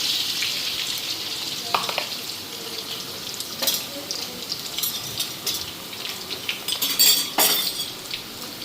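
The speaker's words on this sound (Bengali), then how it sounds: "এদিকে আলুগুলি ভাজা হয়ে গেছে।" Potatoes frying in hot salted oil in a home kitchen, a steady soft sizzle with scattered clinks of a utensil against the pan, at moderate level and without speech.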